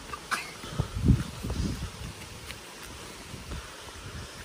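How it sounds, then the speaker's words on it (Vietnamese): Gusty wind blows high up on a hillside, buffeting the microphone with low rumbling bursts that swell and then fade to a fainter steady rush. "Càng lên trên cao là gió càng to."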